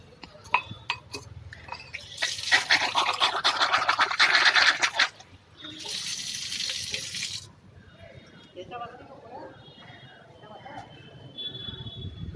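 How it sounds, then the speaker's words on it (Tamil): Tap water splashes and pours onto a plant leaf in a farm demonstration, a loud steady rushing stream that stops, then restarts for a second burst, with scattered clinks and handling noises around it. "இப்போ வந்து நான் உங்கள் கண் எதிர்க்கவே வந்து திரும்ப தண்ணி பிடிச்சி ஊற்றுறேன்"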